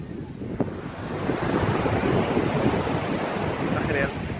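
Waves wash onto a quiet, empty turquoise beach in Cuba in a steady surf, with wind rumbling against the microphone throughout.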